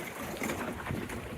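Steady wind noise while sailing a Welsford Navigator sailboat on a lake in northern Minnesota, a continuous broadband rush with faint water movement, loud and close with no voices.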